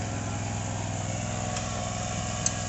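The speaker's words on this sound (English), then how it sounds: "Dad's on the mower now," A riding lawn mower drags over a freshly seeded yard to bury the seed, its engine droning steadily and evenly at moderate distance without talk.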